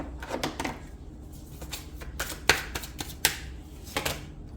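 Tarot cards being shuffled during a reading, a few quick papery riffles and taps at close range, quiet and scattered, with no talk.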